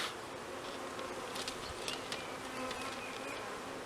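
Honey bees, a dense crowd of nurse bees freshly shaken into a queen-rearing grafting box, hum in a steady close-up buzz that never lets up, with a few louder individual passes near the microphone.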